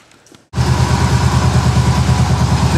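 After a brief quiet moment, a 1979 Chevy shortwide pickup truck engine roars to life and keeps running loudly at a steady, throbbing idle, with no voices.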